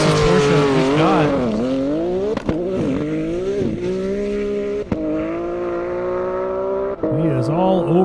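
Porsche Turbo roaring down an airport airstrip in a half-mile drag race, its engine note rising and falling through gear shifts in a loud, sustained run while an announcer talks over it.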